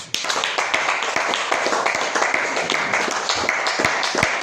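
A church congregation applauding together to acclaim Jesus during a French-language worship revival service, a steady dense patter of many hands clapping close by for several seconds.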